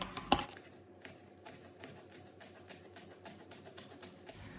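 A knife taps quickly and rhythmically on a cutting board while chopping chives, a faint series of light clicks after one sharper knock at the start.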